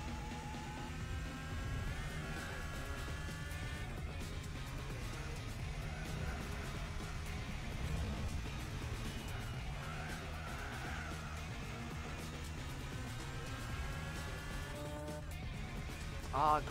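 Racing cars roar through a Gran Turismo 4 race, a steady layered engine whine rising and falling as cars run close together, with a faint voice underneath.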